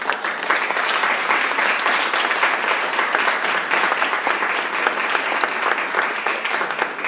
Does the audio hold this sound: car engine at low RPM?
no